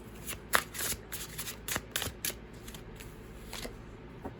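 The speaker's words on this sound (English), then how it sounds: "We'll draw some more tarot cards." Tarot cards being shuffled by hand in a psychic card reading, a run of quick papery riffles and snaps with a few sharper slaps, close and fairly quiet, with no talking.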